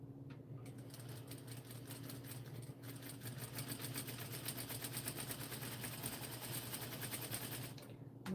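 A sewing machine runs a 5/8-inch seam on a rainbow jumpsuit, its fast even needle clatter steady and close for several seconds, with a brief pause near the start.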